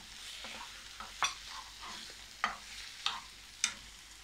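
Fried chicken stirred with onion, capsicum and sauces in a pan, a soft steady sizzle with several sharp scraping stirs spaced about a second apart, close by.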